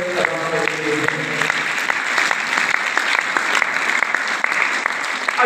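A congregation claps at a New Year thanksgiving service, giving thanks to God with loud, sustained applause and sharp individual claps. A brief tone is heard at the start.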